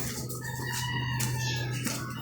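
Chickens clucking and crowing on a goat and cattle farm, a close, continuous run of calls over a low steady hum.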